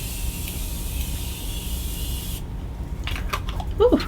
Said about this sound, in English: I really like this setting spray.